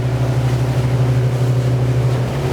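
The Bimax Alchimia 28 motorboat runs at full throttle with a steady, loud, deep engine drone and a constant rush of water and wind, alone with no voices.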